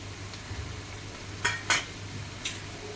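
Spices of turmeric, chili powder and garam masala stirred into prawns cooking in oil and onion in a pan, a soft sizzle broken by a few sharp scraping clinks of the spoon against the pan.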